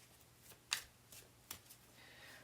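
Tarot cards being shuffled by hand, a few crisp riffling bursts with short pauses between them, close and fairly quiet.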